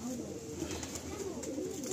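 Madrasi pigeons kept for sale coo in a low, soft, rolling murmur, brief and close, with faint background noise.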